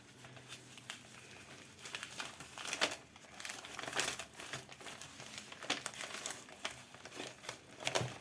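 A paper birthday envelope is opened by hand, giving quiet, close, intermittent crinkling and rustling in irregular bursts throughout.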